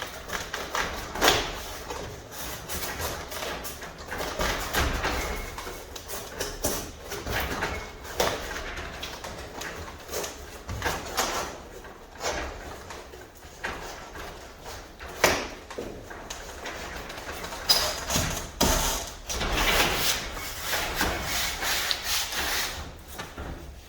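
A styrofoam insulation panel being worked into a garage door channel and pushed down to the bottom, giving a long stretch of squeaky rubbing, scraping and dull thumps, irregular and close, with no one speaking.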